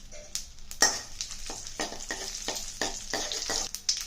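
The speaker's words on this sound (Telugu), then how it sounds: "దీంట్లో తాలింపు గింజలు మిరపకాయలు వేసేద్దాం వేసి వీటిని చిట్టపట్టం అన్నిద్దాం" Tempering seeds and dried chillies spluttering in hot oil for a bottle gourd stew, a close crackling sizzle with repeated sharp pops and bursts throughout, no talking.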